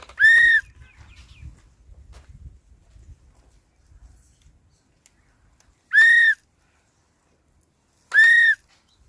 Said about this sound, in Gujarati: ઓલા બાબા તો આપણી સામુ સીટી મારતા હોય એવું લાગે છે